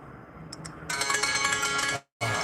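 A Grubhub delivery app order alert plays on a phone as a loud, bright electronic ringtone, starting with two short chimes and then a sustained busy melody that cuts off briefly and resumes, with no talking.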